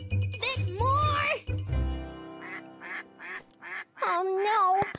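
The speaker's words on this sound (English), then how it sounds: "Oh no, Mother Duck is in trouble." Cartoon mother duck quacking in an animated children's show, loud nasal quacks in a rapid series over background music, with a voice also heard.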